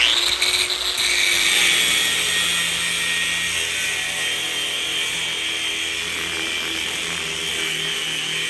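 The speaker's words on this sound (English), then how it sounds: "I'm drilling a hole that we'll use to mount the wings." A power drill bores a hole in a wing mount on a supercharged Harley-Davidson chopper, with a continuous high-pitched whine running steadily from start to finish, loud and close.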